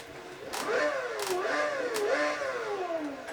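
A car engine in a racing simulator game revs up and down three times in rising, falling sweeps, steady and fairly loud with no talking.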